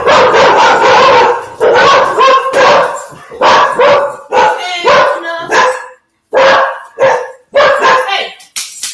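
Several dogs bark loudly and close by in quick repeated bursts, with some yips and whimpers mixed in and brief pauses between volleys.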